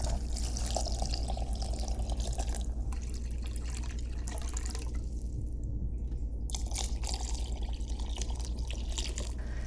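About 1.5 liters of water pours steadily into a pot, a continuous splashing rush that briefly thins midway before resuming, with no talking.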